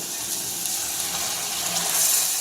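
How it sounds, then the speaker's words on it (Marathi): Water runs in a steady stream and splashes as it is poured into a pan of chickpeas close by, with a soft, even rushing throughout. "यात आपल्याला आता पाणी घालायचं आहे"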